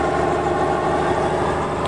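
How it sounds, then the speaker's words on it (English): A Robinson R44 helicopter engine runs steadily on the ground after a 2,200-hour overhaul, a constant loud mechanical drone with even tonal hum and no change in pitch. "Beautiful engine."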